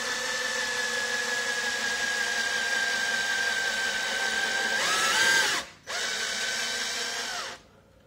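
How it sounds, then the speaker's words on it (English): A power drill whines steadily as it bores through a hockey puck, its pitch dipping near the end before a brief pause, a short restart, then silence. "you're gonna take your small drill bit and you're gonna drill a hole straight down"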